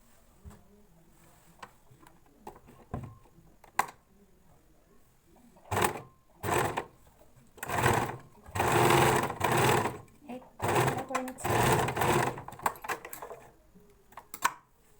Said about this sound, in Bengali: এই যে তো এবার এইগুলোই মিলিয়ে মিলিয়ে আমি সেলাই করে নেব।